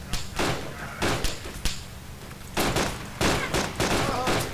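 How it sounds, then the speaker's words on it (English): Bursts of gunfire from the Arma Wasteland video game come in repeated loud volleys with brief gaps between them, sounding like a close exchange of rifle and machine-gun fire. "Watch out, getting shot at."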